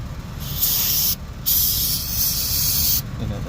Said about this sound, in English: Spray the brake cleaner over there as well.